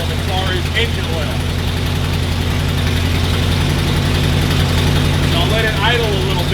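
An old Ford motorhome engine idles steadily with the throttle held slightly open, a loud, continuous low rumble with vibration running throughout while someone talks faintly over it.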